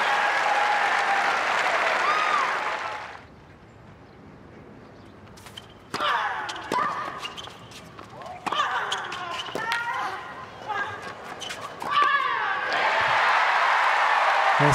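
A tennis crowd at a women's semifinal, largely on its feet, breaks into loud applause, then quieter clapping and sharp ball-like thuds alongside talk, before the applause swells again at the end.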